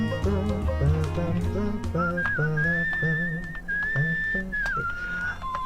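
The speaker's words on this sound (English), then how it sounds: "the whistling does detract from the music quite a bit" Someone whistles a bright melodic tune over background music in the video game Where the Water Tastes Like Wine, the notes sliding and sustained across several seconds.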